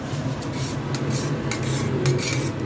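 Chana masala cooked and stirred in a pot, with continuous close scraping and rubbing of a utensil against metal and occasional sharper clanks over a constant low hum.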